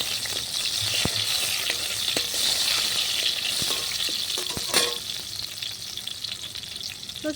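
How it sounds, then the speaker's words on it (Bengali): Crushed garlic crackles in hot oil, giving a loud, continuous frying hiss broken by sharp ticks and spatters from stirring, with a brief louder burst near the end and no voices. "রসুনটা একটু ভাজা ভাজা করে নিয়েছি"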